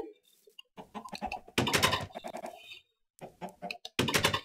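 Several chickens in a video game cluck and squawk in short, overlapping bursts, close and fairly loud, with brief pauses between calls.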